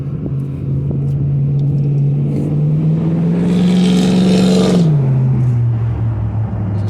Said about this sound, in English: Sound of a Land Rover Discovery 2 I think it is, V8 going past, noisy thing